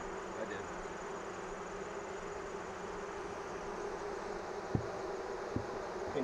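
Dense honeybee buzzing fills a crowded hive chamber, a steady close droning hum that holds level throughout, broken by a couple of brief knocks near the end.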